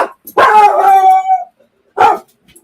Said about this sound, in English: You're barking because you're barking.